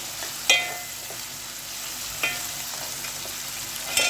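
Onions fry in a pan and are turned over and over until dark brown for sayadeya rice. A steady crackling sizzle carries on throughout, broken by three sharp spoon knocks against the pan.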